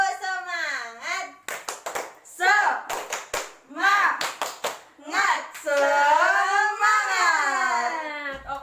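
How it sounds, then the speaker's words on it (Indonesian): Children in a classroom chant and clap along in a rhythmic group cheer, quick bursts of hand claps falling between their high-pitched sing-song voices, close and lively. "Tepuk semangat."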